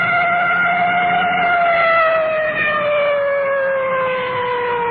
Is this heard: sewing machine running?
no